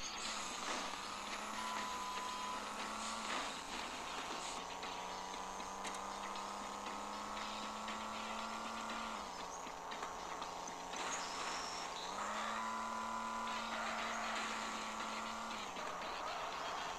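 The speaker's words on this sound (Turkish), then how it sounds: "pedala basmayınca da gidiyor araba, bak." A steady synthetic engine drone from the Android driving game Transit Sürüş Simülatörü rises and falls in pitch as a Ford Transit van drives, faint and continuous, with small clicks scattered throughout.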